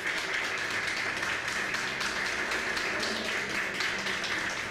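A church congregation at Sunday Mass applauds in a dense, steady wash of clapping that holds at an even level for the whole stretch, with no distinct voices rising above it.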